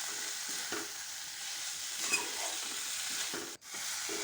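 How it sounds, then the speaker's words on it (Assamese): Boiled fish roe gets stirred with a spatula in a frying pan, a steady close sizzle broken by scraping strokes of the spatula, with a brief drop in the frying hiss near the end. "এইখিনি ভালদৰে আকৌ এবাৰ লৰাই দিম হেতাৰে"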